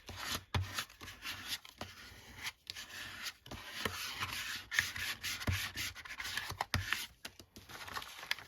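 Small scraper rubbing and scratching across paper on an altered board book, close and quiet with irregular repeated strokes and short pauses.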